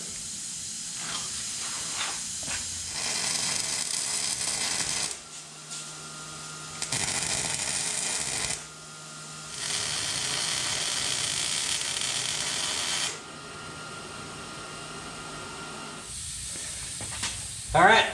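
A welder tack-welds a disc brake caliper adapter bracket in a workshop, with several loud hissing, crackling bursts of a few seconds each, separated by short pauses.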